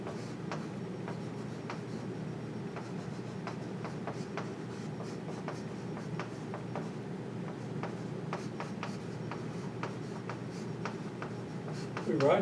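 Handwriting an equation produces a string of quiet, irregular taps and scratches over steady room hum, with no other sounds over it.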